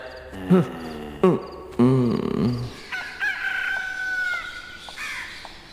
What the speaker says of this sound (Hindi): मुर्गे की आवाज नहीं सुनी?